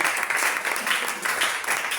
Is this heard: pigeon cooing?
no